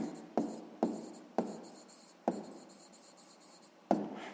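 Handwriting on paper while a math problem's working is written out: five quick scratchy pen strokes, each a sharp onset that trails off, spaced irregularly, close and quiet, no voices.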